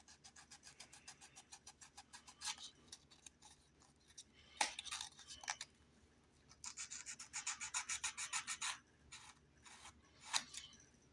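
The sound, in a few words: sanding flash off plastic model car trim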